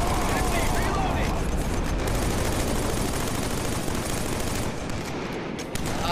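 Dense, continuous gunfire and explosive blasts from a Killzone 3 battle rumble at full volume throughout, with a grenade detonation buried in the steady din.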